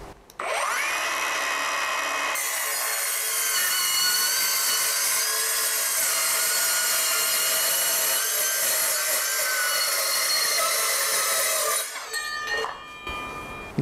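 A Puma PM-S135BL cordless 5-inch circular saw whines steadily through a long cut in wood, loud and close, then winds down with a few rattling noises at the end.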